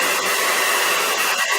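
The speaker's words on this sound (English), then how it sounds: "So I've got my blow dryer, my wife's blow dryer here." A handheld hair blow dryer runs steadily and loudly at close range, a continuous even whoosh with no voices.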